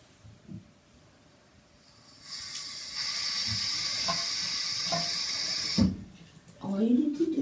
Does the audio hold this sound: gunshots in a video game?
no